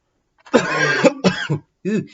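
Several harsh coughs in quick succession, close and loud, with a brief pause before a final pair of coughs.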